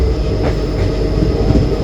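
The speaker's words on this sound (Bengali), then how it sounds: "আমাদের ট্রেন এখন খুব দিক দিক করে যাচ্ছে" The 13466 Intercity Express rumbles loudly along the rails just after leaving Salar, a steady close-up roar with faint rhythmic clatter from the wheels.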